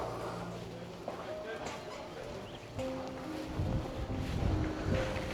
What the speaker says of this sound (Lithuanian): Šiandien biškį vėjuotų.